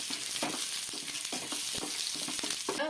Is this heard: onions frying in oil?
yes